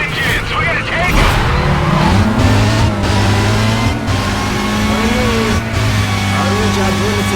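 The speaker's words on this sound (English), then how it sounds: "listen to those engines" Race car engines roar and whine continuously in Need for Speed Carbon, with pitch sweeping up and down through gear changes, tire skids and cars passing. The game sound runs loud throughout and fills the whole stretch.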